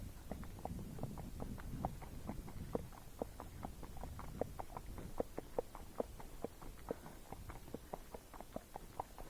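Hooves of a Missouri Fox Trotter horse moving at its second, comfortable gait speed: a quick, even clip-clop of repeated soft strikes, fairly faint, with no talk.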